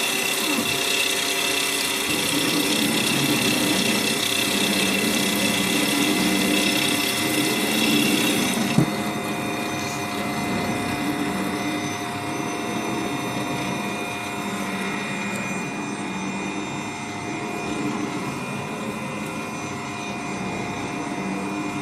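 A Santinelli Nidek LE9000EX lens edger safety-bevels a lens edge, giving off a steady, loud mechanical whir with wet spraying and a grinding tone that runs unbroken, shifting slightly partway through.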